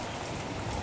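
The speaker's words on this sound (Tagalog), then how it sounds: "ang lakas po ng ulan dito sa amin. Walang tigil ang ulan." Heavy, unceasing rain pouring down over a vegetable garden, a dense and steady hiss of countless drops with no gaps and no voices.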